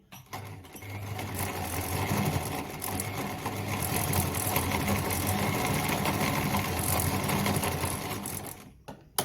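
A Singer 206K sewing machine stitches through four layers of denim, giving a steady, close mechanical hum and rapid rattle that runs continuously for about nine seconds with no talking.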